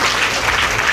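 A crowd at a Devi Bhagwat Katha religious discourse claps together in a dense, loud, continuous wash of applause that fills the whole moment.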